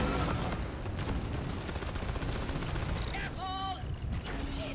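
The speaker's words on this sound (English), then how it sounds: "More explosions!" Dense, continuous bursts of video game gunfire and booming explosions, loud and relentless, with a voice talking over the action.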